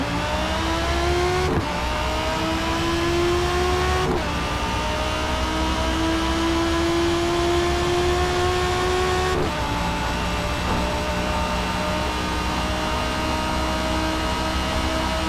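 A 2020 Audi R8 V10 Performance in a racing game, loud and close, its V10 howling as it climbs through the revs, cut by sharp gear shifts at regular intervals.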